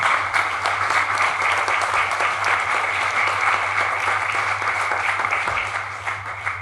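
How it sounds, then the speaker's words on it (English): An audience at a city golden jubilee launch event applauds steadily for several seconds, dense clapping over a low constant hum, fading slightly toward the end. "ask you to give yourselves a round of applause."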